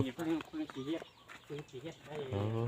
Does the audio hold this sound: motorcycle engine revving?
no